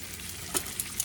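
Meat, likely pieces cooked before the ground beef for a homemade spaghetti sauce, frying in a pan with a steady low sizzle and a few sharp crackles and pops, moderately close with no talking.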